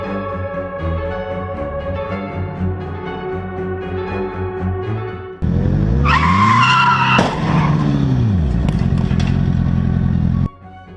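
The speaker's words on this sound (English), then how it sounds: "The driver suddenly lost control and slammed into the rear of the car ahead" A car suddenly skids and slams into the rear of the car ahead on a road, a steady engine drone giving way to loud tire squeal and a sharp impact, followed by scraping and sliding before it cuts off.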